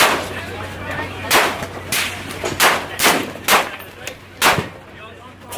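Rifle shots fired at a long-range target at an outdoor range, several sharp cracks spaced about a second apart, each with a short echo, over a steady low hum and faint background voices.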